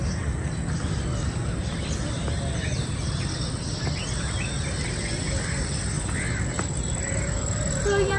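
Crows caw repeatedly over a steady bed of insect and cricket buzz in a Lahore public garden, with other birds calling faintly in the distance throughout.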